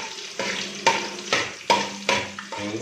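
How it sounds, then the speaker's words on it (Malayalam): Cashews and raisins fry in hot ghee in a pan, a close sizzle broken by a few sharp stirring scrapes at a steady pace, with no voices over it. "നെയ്യൊക്കെ ചൂടായി, നമ്മുടെ നെയ്യൊക്കെ ചൂട്. അതിലോട്ട് എന്താ അണ്ടിപ്പരിപ്പ് മുന്തിരി"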